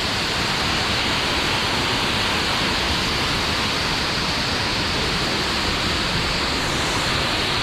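Water pours forcefully out of rock at Küp waterfall near Adana, Turkey, a loud, steady, close rushing roar that fills the whole clip without pause.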